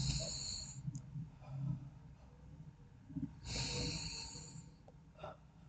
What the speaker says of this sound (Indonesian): Jadi mulut yang menghembuskan lewat mulut, hidung ditutup gitu.